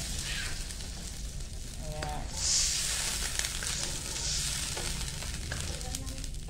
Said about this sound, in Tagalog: Natapos na po yung 2 minutes natin sa pagpapa-golden brown ng ating giniling na baka.